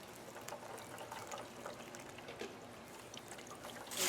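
Liquid poured over BBQ ribs on a smoker holding at 250 degrees, a soft steady trickle and splash lasting several seconds, heard faintly over outdoor background noise.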